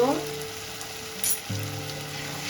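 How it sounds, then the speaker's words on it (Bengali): Turmeric, cumin and chili powder spice paste fries in a pan, a steady close sizzle with a brief stirring scrape partway through and a low hum underneath; no one speaks. "মশলাটা ভালো করে কষিয়ে নেব"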